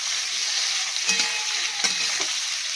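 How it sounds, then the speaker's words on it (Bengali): Radish fries in hot oil tempered with radhuni and nigella seeds, giving a steady, loud sizzle with a couple of brief clinks from stirring partway through and no talking. "দিয়ে দিলাম তেলে ফোড়ন, ফোড়ন দিয়ে মূলোটা দিয়ে দিয়েছি। মূলোটা একটু ভাজা ভাজা করে নেব।"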